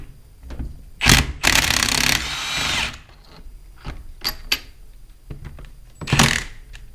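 A power tool zips bolts out of a Vickers PVH 131C hydraulic pump in loud, close bursts: one short rip, a longer whirring run of over a second, then a final burst, broken up by clanks and clicks.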